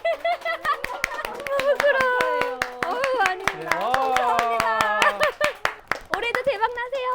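A small audience claps at the close of a gift presentation, with crisp, rapid hand claps running throughout while several voices talk and exclaim loudly over them.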